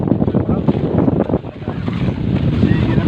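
A strong gusting wind buffets a small handline fishing boat at sea, a loud rumbling roar that swells and dips under faint water movement, with a voice briefly heard amid the noise.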